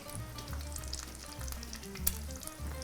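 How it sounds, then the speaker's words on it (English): An egg fries in a pan as part of a croque madame. It makes a steady, close sizzle with crackles and faint scraping, and no one speaks. "I'm just gonna let this cook until the whites are set and the yolk is still a little runny"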